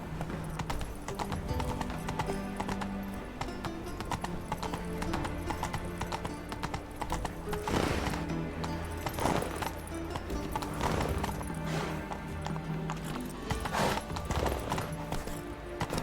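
Horse galloping in The Witcher 3, a steady rapid hoofbeat rhythm running throughout over game music, loud and close with no talking.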